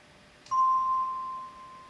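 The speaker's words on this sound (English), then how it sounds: "And then the bell." A single bell tone placed in the second verse of a song, struck once and ringing clearly with a slow decay, alone over a quiet background.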